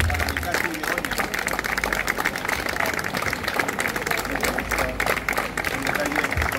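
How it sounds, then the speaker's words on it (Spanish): An audience at an award presentation in Ponferrada's Casa Cuna claps in a dense, steady round of applause from start to finish, with faint chatter mixed underneath. "Un aplauso, por favor"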